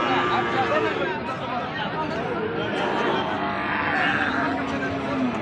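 Beef bulls and calves at a busy cattle market. Steady crowd chatter and nearby talking mix with the low lowing of cattle for the whole stretch.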